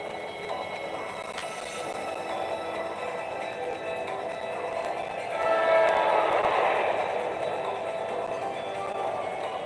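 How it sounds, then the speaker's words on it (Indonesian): A train rolls past in the Digimon World 4 video game as a loud, steady rumbling, grinding rush that swells slightly midway and carries a brief whistle-like tone, with no voices over it. "Kereta lewat lagi sini."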